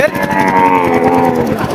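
A long, loud cow moo at a cattle market, close by, holding steady for nearly two seconds with little else around it.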